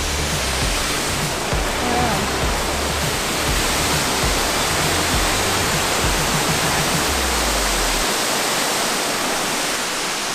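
Preston Falls, a waterfall in Tasmania, a loud continuous broadband rush of falling water, steady and close throughout with faint low rumbles early on.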